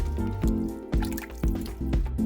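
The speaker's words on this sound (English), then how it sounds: "pour in the rest of the broth until the ingredients are almost completely" Broth being poured into a pot of French home-cooked stew, a steady liquid splash and trickle heard close, partly masked by a rhythmic musical backing with regular beats.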